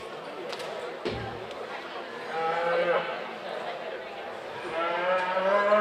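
Angus heifers moo and low in long, drawn-out calls at a junior livestock show. The calls sound close, set against steady barn and arena bustle and a thump or two, with an announcer's voice talking over parts of it.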